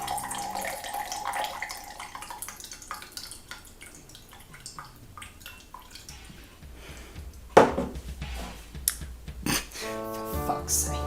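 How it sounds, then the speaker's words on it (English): A green cocktail being poured into a glass in a home kitchen, liquid trickling and dripping unevenly with small splashes, clinks and a sharper knock partway through, close and fairly quiet. "And then what I'll do is in a glass, and then I'll pour that in there like this."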